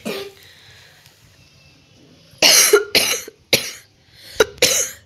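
A person at home coughs in several loud, harsh bursts close to the microphone. Quieter background sounds come first, then four or five coughs follow one another at uneven gaps.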